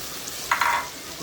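Salted hilsa fish hits a pan of water with dry chili, turmeric and coriander powders and sliced green chilies, giving a short, bright sizzle burst midway through an otherwise quiet stretch.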